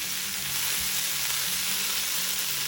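Coriander leaves frying in a pan with tamarind added, giving a steady, close sizzle that holds even throughout with faint stirring underneath and no talk.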